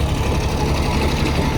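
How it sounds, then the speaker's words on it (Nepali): A tractor engine chugs on a dusty mountain road to Ghandruk village in Nepal, giving a loud, steady low rumble that runs unbroken throughout. "कडा छ त ट्र्याक्टर त अनि"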